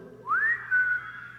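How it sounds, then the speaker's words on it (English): A single rising two-part whistle from a church congregation, a quick upward sweep followed by a steady held note, clear and fairly close, with no talking over it. "Can you do that whistle?"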